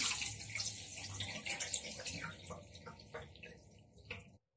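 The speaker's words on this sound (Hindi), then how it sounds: "इसमें डालेंगे ठंडा पानी।" Cold water poured over boiled chowmein noodles in a kitchen, a steady close splashing rush that fades and stops, with a voice faintly beneath.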